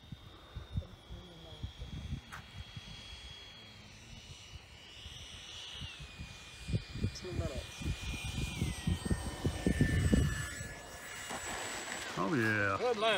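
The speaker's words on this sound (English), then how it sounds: "Good landing, Marvin." A Freewing 90mm EDF jet model of an F-22 or F-18 comes in to land, its high turbine whine sliding down in pitch as it throttles back. Wind buffets the microphone and people talk nearby.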